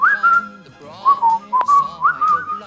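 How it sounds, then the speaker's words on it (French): A person whistles a bright, wavering melody up close, phrases rising and falling in short runs. "Et puis, siffle avec moi."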